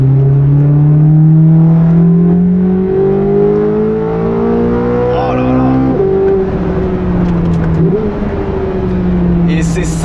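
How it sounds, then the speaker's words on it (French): A Corvette C8 Z06's naturally aspirated V8 revs hard, its pitch climbing through the gears in long rising sweeps with a brief drop between shifts, loud and close from inside the car. "un V8 Atmo qui prend des tours"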